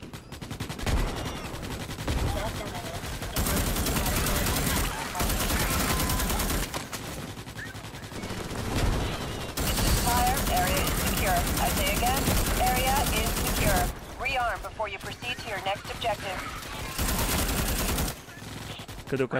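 Rifle gunfire in the video game Starship Troopers, sustained bursts of rapid automatic shots with brief pauses, loud and close, mixed with game sounds and someone talking.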